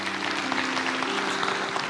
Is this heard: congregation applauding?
yes